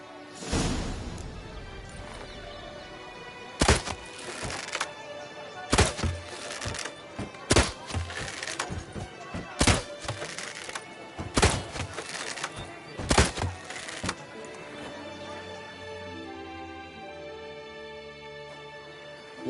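Arrows or bolts striking targets during a shooting contest in The Witcher: about a dozen sharp, woody thunks land at irregular intervals over a low background, then give way to quieter ambience.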